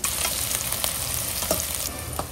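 Whole spices, including bagara flower and leaf, frying in hot oil in a pan for a spinach mutton curry, a steady close sizzle with occasional sharper crackles and pops, no talking.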